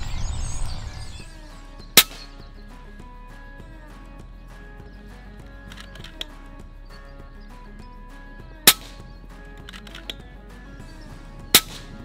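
An FX Panthera compact airgun fires 18 grain Barracuda pellets outdoors: three sharp, close cracks spaced several seconds apart, each followed by a faint smack, with quiet moments and a few soft clicks in between.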